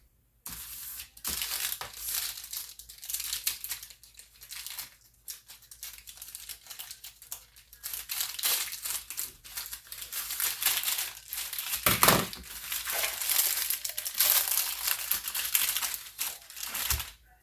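Continuous crinkling and tearing of plastic packaging as a pie crust is opened up close, busy and scratchy throughout with no talking.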